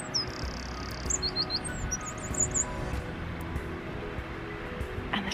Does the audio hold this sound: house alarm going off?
no